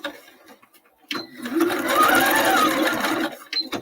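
A sewing machine stitches a heavy-duty seam on a tote bag, a short buzzing run of rapid needle strokes lasting about two seconds, close and clear, framed by brief handling noises.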